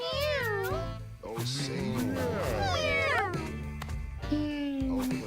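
Cartoonish cat meows and yowls from the Mewgenics video game, several rising and falling calls in quick succession, loud and close, with game music underneath and a person talking briefly over them.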